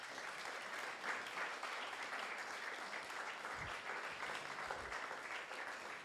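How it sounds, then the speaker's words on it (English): Soft, steady applause from a concert audience as a performer walks to a seat, heard as a faint, distant wash of many hands clapping evenly throughout. "Could you come with some applause to your seat"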